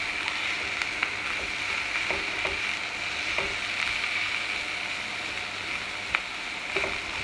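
Cut-up zucchini fries in a hot pan with a continuous even sizzle and hiss, broken by occasional soft clicks and taps as the pieces are moved around. No talking.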